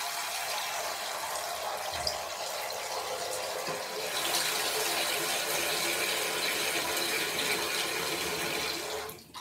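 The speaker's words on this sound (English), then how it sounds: "Spending all afternoon wiping my fucking arse in the sink, washing my arse in the sink." Tap water runs steadily into a sink during washing, a constant close splashing hiss with a brief knock near the start and a change in flow toward the end.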